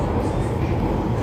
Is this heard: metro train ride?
yes